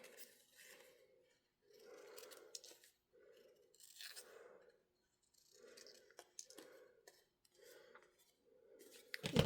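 Scissors snip through paper from a scrapbooking kit in a quick series of close, crisp cuts, each snip paired with a rustle, keeping a rhythmic pace over several seconds with brief gaps.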